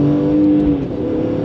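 Close, loud engine roar from a BMW E46 M3 CS under full throttle, a steady rising rev with a brief dip in pitch as the gear changes mid-pull.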